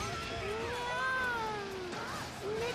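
A cat meows several times in the Sengoku Basara 3 Utage video game, with drawn-out, wavering mewing calls over a quiet game background.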